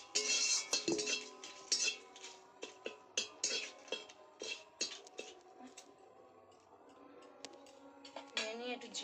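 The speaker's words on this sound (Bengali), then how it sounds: "তেল দিয়েছি, তেলটা একটু নেড়ে নিই।" A metal spatula clinks and scrapes against a cooking pan as oil is stirred, a series of irregular sharp taps and clatters, close and fairly quiet, without talk.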